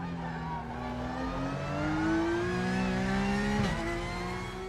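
Porsche Carrera Cup race car engine in the RaceRoom racing game, a loud sustained flat-six drone with rising pitch as it accelerates through gears, one quick shift dip near the end, no talking.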